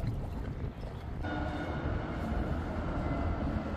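A train rumbles steadily nearby as it runs along a street in Helsinki, a dense continuous low roar and clatter filling the whole stretch without any voices.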